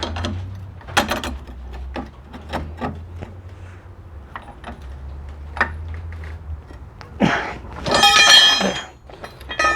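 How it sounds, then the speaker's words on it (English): A breaker bar with a 32 mm socket works on a tight CV bolt on a Mitsubishi 3000GT, with scattered close metallic clinks and taps, then a louder clanking burst of metal. "Now you need your breaker bar and the 32mm socket."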